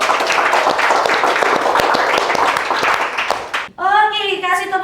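An audience claps after a debate session on young people in politics, with dense clapping that fades and stops before a voice begins speaking over the room.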